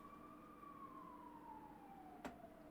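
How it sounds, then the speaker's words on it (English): A distant ambulance siren wails in a long, slowly falling tone, faint and steady, with no talking. "You hear the ambulance on the way."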